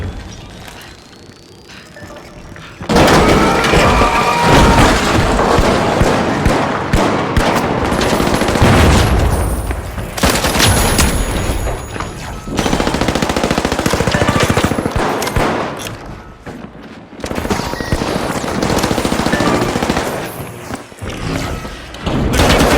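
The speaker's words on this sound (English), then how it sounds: "Frag grenade set!" Frag grenade blasts and rapid gunfire from the shooter game The Finals, with loud, dense bursts of booms and automatic fire packed together across most of the stretch and only brief lulls between volleys.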